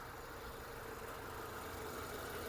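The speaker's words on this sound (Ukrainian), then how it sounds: "двигун працює чітко" A Renault Megane engine idles steadily with a low, even hum and faint mechanical ticking, continuous throughout with no talking.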